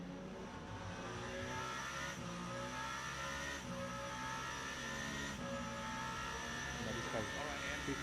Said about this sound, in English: A ridiculous downshift noise.